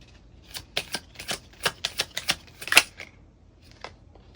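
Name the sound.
tarot cards being shuffled and drawn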